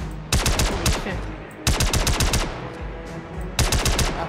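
Enemy machine-gun fire in Star Citizen during a night raid on anti-air weapons: three loud rapid bursts of automatic shots, close and sharp, separated by short pauses.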